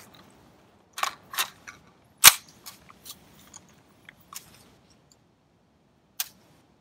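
Mechanical clicks from an M4 rifle fitted with a live round lockout: a scatter of light handling clicks and one sharper, louder click as the action releases, with a primer left unstruck, in a quiet setting.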